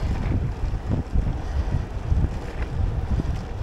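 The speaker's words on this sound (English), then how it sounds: "This wind would bugger off." Strong wind buffets the microphone during a road cycling ride along a canal towpath loop, a steady low roar with gusty surges throughout and no voices.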